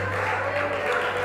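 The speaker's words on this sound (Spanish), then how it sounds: "brindarle un fuerte y bonito aplauso para Cristo Jesús" A church congregation applauds loudly and steadily in a dense wash of clapping, with a low hum underneath and crowd voices mixed in.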